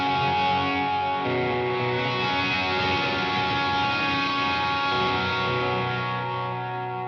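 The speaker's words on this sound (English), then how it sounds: "now it will only let the wet signal pass through and no dry signal" Wet-only output from a Boss RE-202 tape echo pedal, with no dry signal mixed in: a sustained, washy, modulated echo tone that holds steadily for about seven seconds and fades slightly at the end, with no talking.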